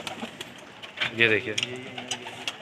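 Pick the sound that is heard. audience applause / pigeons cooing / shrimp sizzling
pigeons cooing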